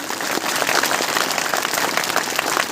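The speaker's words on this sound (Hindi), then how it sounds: "एक जोरदार तालियों का शोर जो तो गूंजना चाहिए" Crowd applause fills a political speech gathering in Vaijapur, steady dense clapping close and loud for the whole stretch with no voice over it.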